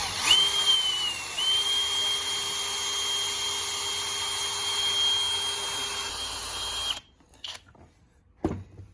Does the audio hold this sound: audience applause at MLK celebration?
no